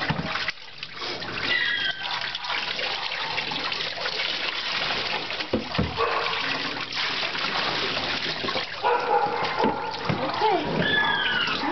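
Water trickles and splashes during a shar-pei puppy's first bath, with intermittent pouring and splattering close by and a person talking at times.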